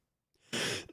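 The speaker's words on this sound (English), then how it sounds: "Why are you always coughing?" A person gives one short, harsh cough after a soft intake of breath. It is close and fairly loud against quiet surroundings.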